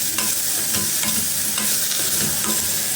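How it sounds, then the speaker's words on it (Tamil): Okra sautéing with salt in a pan for a Tamil-style thuvaiyal: a steady close-up sizzle under repeated scraping stirs of the spatula, with no talking. "இப்போ நல்லா வதக்கிடலாம் இந்த உப்பு போட்டது பாருங்கள்"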